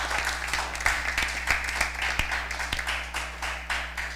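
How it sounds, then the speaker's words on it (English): Audience at a junior science quiz competition welcoming school contestants with applause; a modest crowd claps steadily, the scattered hand claps fairly soft and distant over a constant low hum. "please feel free to give them a round of applause"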